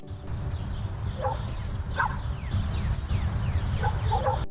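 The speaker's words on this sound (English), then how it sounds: "So we have bark right here. And now let's all listen to it." A dog barking sound effect plays as a few separate barks spread over several seconds, heard over a steady low background rumble.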